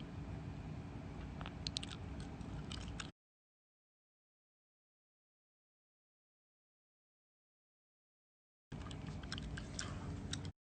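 Crisps being chewed close to the microphone, two bursts of crunchy, crackling bites separated by a long stretch of silence.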